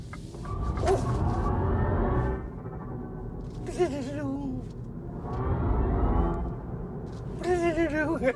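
2024 MINI Cooper SE electric car accelerating, its synthetic drive sound rising as a rumbling hum in two long swells, each ending in a quick whooshing release when the throttle lifts.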